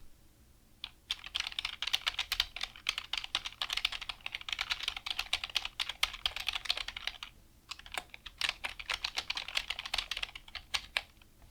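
Computer keyboard typing: fast, continuous clicking of keys, close and crisp, in two long bursts separated by a short pause, with no voice.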